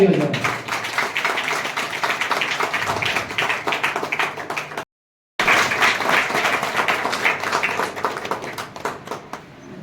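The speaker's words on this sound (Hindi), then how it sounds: "एक बार जोरदार ताली बजाओ।" Loud, sustained applause from an audience at an honour ceremony in Nathnagar, dense clapping running continuously with a brief dropout midway.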